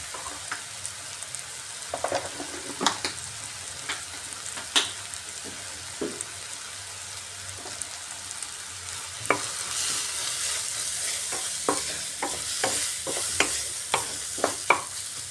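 Ground turmeric, coriander, cumin and red chilli powder fry in a pan for tandoori egg curry, with a soft steady sizzle broken by scattered scraping stirs that grow busier toward the end.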